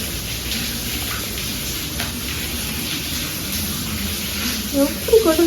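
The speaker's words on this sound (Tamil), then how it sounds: "எப்படி கொட்டுது பாருங்க. அருவி மாதிரி கொட்டிட்டு இருக்கு." Heavy rain pouring down like a waterfall onto a rooftop terrace, a constant loud hiss and splatter with some louder clattering near the end.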